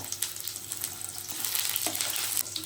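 Mustard seeds, dried chillies, shallots and curry leaves frying in hot oil for a banana stem thoran make a close, crackling sizzle with light popping and stirring, with no voices over it.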